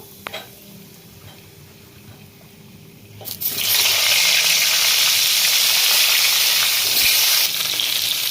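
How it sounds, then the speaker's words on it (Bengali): Pointed gourd (potol) pieces dropped into a hot wok, setting off a loud, steady sizzle that swells after a few quiet seconds with a clink and stays strong to the end. "পটলগুলো আমি ভেজে নেবো"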